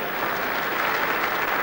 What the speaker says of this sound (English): as I wait for the applause to die